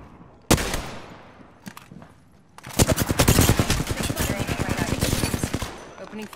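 Gunfire in Apex Legends: one loud shot and a few scattered pops, then a long rapid automatic burst with fast, dense repeating cracks, close and loud.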